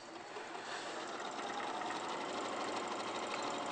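A sewing machine stitching fabric pieces together runs in a steady, even whirring hum, fairly quiet and continuous throughout with no talking.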